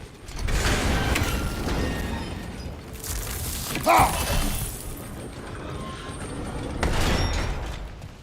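A crank mechanism turns to open a gate in God of War Ragnarok, grinding and creaking steadily for several seconds with a louder clank midway, set against ambient game sound and no talk.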